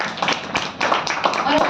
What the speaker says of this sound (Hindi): एक बार तो तालियां बजनी चाहिए